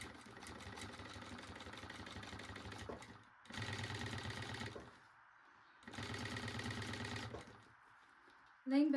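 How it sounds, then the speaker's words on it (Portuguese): A sewing machine stitches the finishing edge of a baby backpack in three steady bursts of rapid mechanical chatter, separated by short pauses, close and fairly loud. "a gente vai costurar agora esse acabamento"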